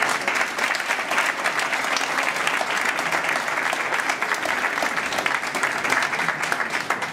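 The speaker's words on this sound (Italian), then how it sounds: "chiedo di fare un applauso proprio per lei" Audience at a blood donors' association assembly applauds a volunteer, a steady, moderately distant wash of many hands clapping that continues evenly throughout.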